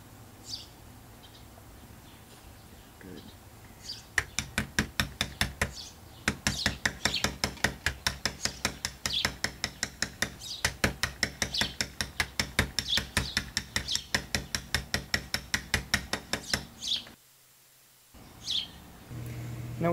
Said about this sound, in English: this is the first time I've ever bumped a lock